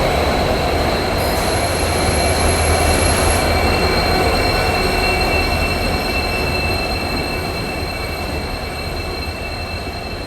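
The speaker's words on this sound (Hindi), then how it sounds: "आ रही है अपनी Guwahati Silchar express डिल्लूभाई diesel locomotive के साथ, WDG4," Guwahati Silchar Express hauled by twin WDG4 diesel locomotives passing during a monsoon journey through the Barak Valley, a loud, steady roar of rolling wagons with high wheel squeal, heard close and continuous throughout.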